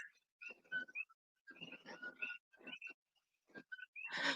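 A small frog hidden under a chair croaks repeatedly in short, rapid bursts separated by brief pauses. The calls sound quiet and close by, with no voices over them.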